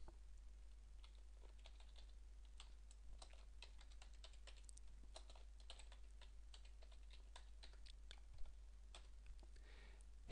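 A name is typed on a computer keyboard, with quick, light key clicks coming in bursts and short pauses in a quiet room under a steady low hum. The clicks are faint and there is no voice.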